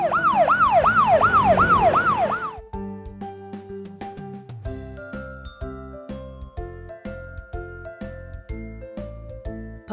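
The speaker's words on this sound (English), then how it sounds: "Police car" A police car siren wails for about two and a half seconds in a loud rising and falling cycle, then gives way to a bright, jingling musical melody.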